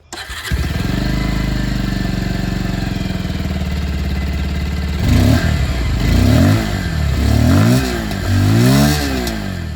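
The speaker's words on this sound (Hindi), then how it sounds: "तो ये था पल्सर 150 का आवाज़" A Bajaj Pulsar 150 motorcycle starts up and settles into a loud, close idle with a throbbing exhaust, then gets several sharp throttle blips that rise and fall.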